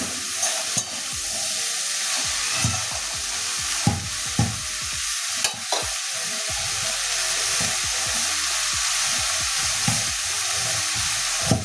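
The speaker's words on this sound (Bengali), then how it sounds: "লাউটা ভালো করে কষিয়ে নেব মশলার সঙ্গে।" Bottle gourd sautés with spices in a pan, giving a loud, continuous sizzle and hiss. Scraping stirs and occasional knocks of a spoon against the pan come through clearly, with no talking.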